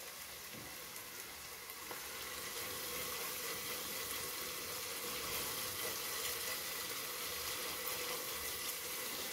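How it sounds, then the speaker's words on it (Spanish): Water pours in a continuous, even hiss into a pot of Mexican meatball broth (caldo de albóndigas) cooking over medium heat, growing slightly louder partway through. No one speaks. "yo voy a agregar aproximadamente 2 litros de agua"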